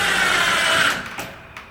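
A power driver whirs as it sinks screws into the side of a repaired, kicked-in door jamb through pre-drilled holes, a loud buzzing run that stops, followed by a couple of brief bursts.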